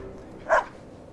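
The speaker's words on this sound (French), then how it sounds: "Ce sont de très bons chiens." A single short dog bark rings out once, brief and moderately close, in a quiet polar setting.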